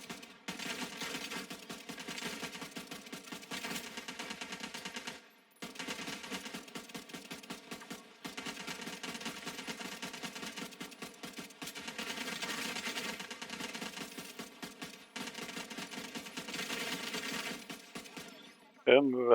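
Sustained automatic gunfire in a tank-build shooter video game, long rapid bursts with brief pauses between them, steady and fairly loud, with a short sharp sound at the very end.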